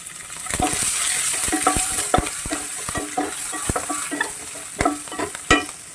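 Garlic, green chili and onion sizzle in hot oil in a pan, a steady hiss broken by sharp clicks and scrapes of a spoon stirring, with no talking.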